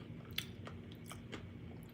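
Chewing a last bite of dinner up close and faint, soft wet crunches and bites repeating in an irregular rhythm, with no talk.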